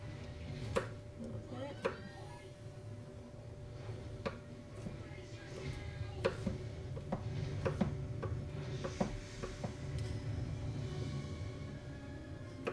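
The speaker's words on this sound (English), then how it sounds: "So I'm just gonna chop this up." Broccoli being chopped for broccoli cheese soup, a sparse series of faint, sharp knife taps on a board over a quiet background murmur of a TV film.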